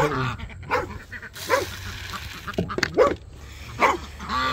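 A puppy gives several short barks and yips at irregular intervals, fairly close, over a noisy outdoor garden background.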